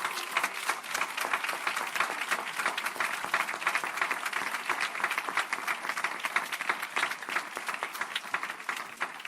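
A church congregation applauding during a sermon, sustained dense clapping from many hands that fills the room at a steady level for several seconds, with no voices clearly heard over it.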